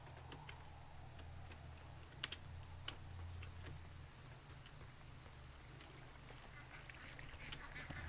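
Ducks quack in a woodland scene from the video game Firewatch, a few short calls scattered over a steady low ambient hum with light clicking, no voices.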